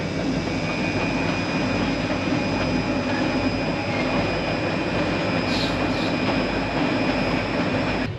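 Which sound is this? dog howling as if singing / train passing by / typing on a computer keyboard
train passing by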